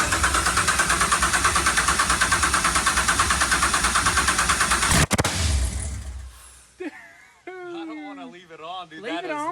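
1967 Chevrolet Camaro SS with a swapped LT4 V8 idling close by in a steady, loud, rhythmic lope that suddenly cuts out, followed by people talking.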